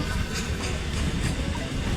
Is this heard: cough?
no